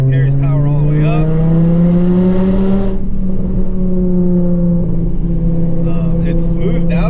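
A Volkswagen 2.5 engine with an Integrated Engineering Stage 1 tune drones steadily under load while driving, its exhaust note rising gently in pitch, heard loud and close from inside the car.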